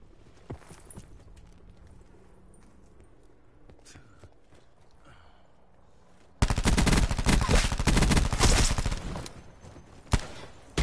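Heavy shotgun blasts in a multiplayer shooter, a sudden loud barrage of close, overlapping booms after several seconds of quiet background clatter.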